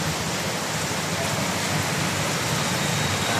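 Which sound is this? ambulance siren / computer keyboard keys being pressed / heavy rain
heavy rain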